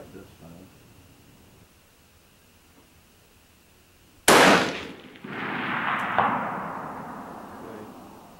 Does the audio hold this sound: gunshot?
yes